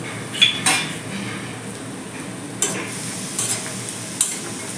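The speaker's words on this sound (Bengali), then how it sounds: "তেল গরম হয়ে গেছে এবার তেলের মধ্যে আমি প্রথম বড়িগুলোকে ভেজে নেব" Bori lentil dumplings fry in hot oil in a kadai: a constant sizzle is punctuated by several sharp metallic clinks and scrapes from a spatula against the pan.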